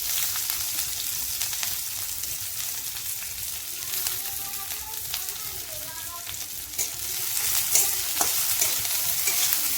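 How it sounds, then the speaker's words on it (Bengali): Two small chopped onions fry with bitter gourd in a pan, giving a continuous, moderately loud crackling sizzle with occasional stirring scrapes throughout. "পেঁয়াজগুলো অল্প ভেজে নেব লাল করে"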